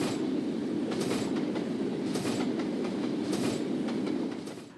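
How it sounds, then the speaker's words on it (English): A heavy manifest freight train rolls over a freshly installed switch frog, wheels banging in repeated loud clacks at a steady rhythm over a constant rumbling roar, close by, fading at the end. "The heavy manifest train makes a loud noise as it slams over the freshly installed frog in the switch."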